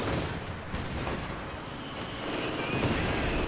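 Artillery barrage in the video game Company of Heroes 2: a dense, continuous wash of rumbling gunfire and blasts, loud and sustained without clear pauses.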